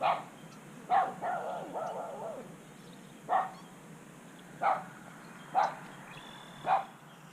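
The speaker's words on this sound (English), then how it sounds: "it's time for him to now bark ineffectually at me for the next 5 minutes" Neighbor's dog barking at a distance outside, a string of about six or seven single woofs at irregular intervals, fairly faint against quiet ambient noise, with a brief whiny yelp early on.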